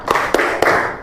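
A school class claps together in a quick rhythmic spirit clap, with three sharp, unified bursts of hand claps ringing in a room.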